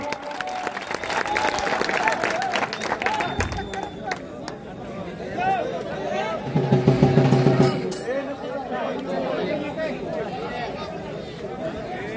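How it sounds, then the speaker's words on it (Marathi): Crowd applause at an outdoor kushti wrestling ground in Satara, Maharashtra, a broad spread of clapping mixed with chatter and loud voices over the crowd. "टाळ्या वाजवा सर्वांनी"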